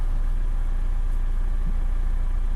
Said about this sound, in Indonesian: kita panasin dulu mesinnya sampai kondisi idle ya, RPM nya sekitar di bawah 1 atau di bawah 1000 ya